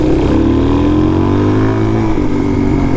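Dirt bike engine revving hard and loud during a wheelie on a fall trail ride, pitch climbing steadily and holding high before dropping back near the end.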